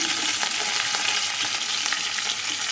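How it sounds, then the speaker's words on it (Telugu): Hot oil sizzles and crackles steadily up close as tempering spices, dried red chillies and curry leaves fry, a dense frying hiss with scattered sharp pops and no voices. "కరివేపాకు కూడా వేసాను"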